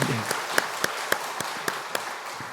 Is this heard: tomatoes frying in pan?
no